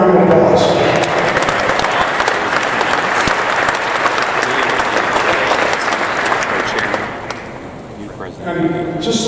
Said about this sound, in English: Give them all a big round of applause.